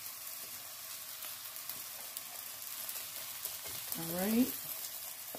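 Cooked rice frying in a pan for beef fried rice, a close, steady sizzle that runs throughout, with a short spoken remark near the end.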